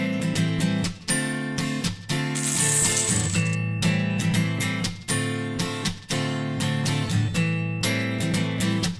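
Coins saved over three months pour and drop onto a pile in repeated metallic clinking bursts, loud and close, with a brief bright jingling shower midway.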